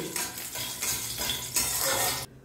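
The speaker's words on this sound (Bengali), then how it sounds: "ফোড়নটা কয়েক সেকেন্ড একটু ফ্রাই করে নিচ্ছি" Black mustard seeds, a dried chilli and a pinch of asafoetida temper in hot oil, a soft, steady crackling sizzle with light stirring that cuts off abruptly near the end.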